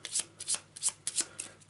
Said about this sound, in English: So I'll shuffle up the location cards and see what we come out with.